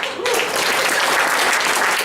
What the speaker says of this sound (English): Why don't you give me a round of applause if you're happy to be in the auction industry?